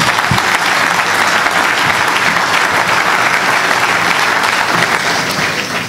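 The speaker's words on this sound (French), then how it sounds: "Applaudir encore une fois." Audience applause closing a mock trial of Tshombe, a dense, steady wash of many hands clapping at full strength for the whole stretch, close and loud, fading slightly at the end.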